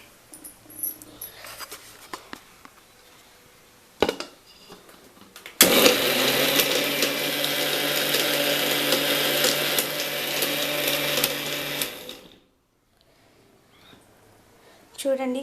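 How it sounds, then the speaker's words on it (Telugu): A mixer grinder churns tomato chutney in its jar, starting abruptly after some handling clatter and brief talk, then running loud and steady for about six seconds before cutting off. "దీన్ని మిక్సీ పట్టాలి."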